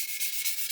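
Sandpaper rubs across a plastic part of an Airfix 1/72 Lancaster B.III Dambuster kit to smooth away an edge, a brief, close, rhythmic scratching of short back-and-forth strokes.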